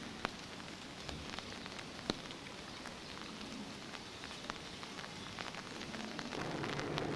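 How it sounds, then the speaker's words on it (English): Steady rain falls around the Deanery in Winchester, a soft continuous hiss with scattered sharper drop ticks, fairly faint and even throughout with no voices. "here we are just around the corner at the Deanery, and it's raining"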